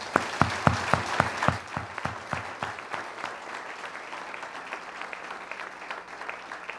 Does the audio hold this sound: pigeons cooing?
no